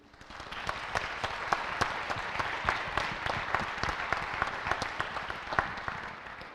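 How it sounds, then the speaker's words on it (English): An audience at the Eurobot Junior international robotics finals applauds the competition organizers. Steady, fairly soft clapping from a crowd swells in slightly and holds through the clip. "please take a applause for all of them"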